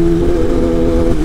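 A Triumph Tiger motorcycle engine hums steadily at mid pitch, fairly loud and close, with a smooth continuous drone and no speech.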